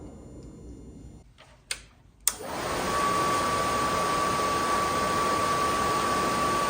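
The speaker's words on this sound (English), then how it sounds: "this relay closed, sent power to the blower motor" Faint ticking and clicks, then two sharp clicks as a relay closes and an RV furnace blower motor starts up, settling into a steady, close, whooshing hum with a constant tonal whine.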